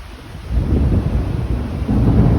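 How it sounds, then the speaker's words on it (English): Thunder rumbles through a heavy rainstorm with lightning, heard from a front porch: a continuous low roar that swells and stays loud, with steady rain hiss beneath and no voices. "it's raining now, and lots of lightning."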